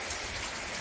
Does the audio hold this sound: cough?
no